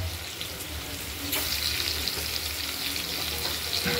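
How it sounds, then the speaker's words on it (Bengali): Stuffed ash gourd slices, filled with poppy seed, mustard and flattened rice, fry in hot oil with a steady close sizzle that grows louder partway through, with no talk. "ওটা হালকা হলুদ করে ভেজে নেব।"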